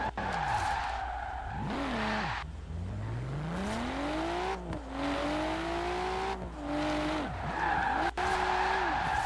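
A Nissan R33 Skyline drifts through a drift zone in Forza Horizon 4, engine revving up and down in sweeping pitch bends with sharp bursts of tire squeal, loud and close.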